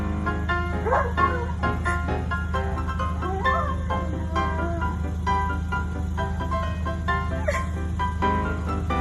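A small excited dog yips and whimpers in short irregular bursts through a continuous low hum, its high-pitched calls standing out near the mic.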